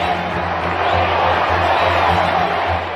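A large crowd cheers at a royal wedding, the wedding of Fergie and Andrew, while it waits for the kiss: a loud, steady roar of many voices that holds evenly and then eases slightly at the end.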